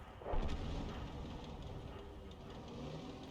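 Grille artillery gun in a tank video game fires a shell, a heavy low boom near the start followed by a sustained rumbling battlefield din and engine noise, no voices.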